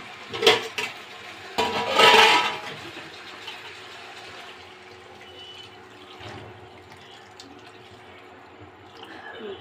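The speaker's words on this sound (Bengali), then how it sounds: "দেখুন আমি পানিটা দিয়ে দিয়েছি" Water is poured into a cooking pan of fish and potato curry, splashing in two loud bursts at the start and then settling into quieter bubbling and faint drips.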